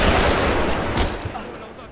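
A movie shootout between a man and Middle Eastern militants: dense, loud bursts of rapid gunshots crackle and rattle together, then thin out and fade toward the end.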